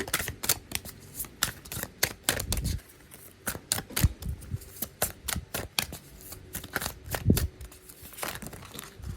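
Oracle cards for a balance-and-emotions reading being shuffled by hand, a close, crisp run of rapid riffling and slapping bursts that repeat in quick irregular waves with no voices.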